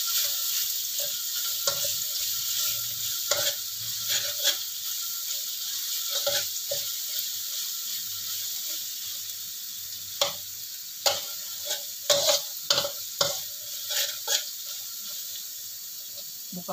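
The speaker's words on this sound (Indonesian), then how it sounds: "Kita tumis bumbunya sampai harum" Spice paste sautés in a pan with a steady, fairly quiet sizzle and hiss, punctuated by irregular spatula scrapes and clinks that grow busier toward the end; no one speaks.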